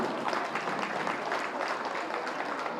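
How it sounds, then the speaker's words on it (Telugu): Audience clapping for the cooks and volunteers at a large vegetarian rally gathering in Siddipet: a dense, continuous round of applause from many hands, fairly even in loudness from start to finish. "వారికి ముందుగా గట్టిగా క్లాప్స్ కొట్టుకోవాలి మనం"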